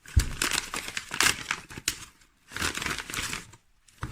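A paper envelope holding vintage first edition WOTC Pokémon Team Rocket card packs is handled up close, giving bursts of crinkling and rustling separated by brief quiet gaps.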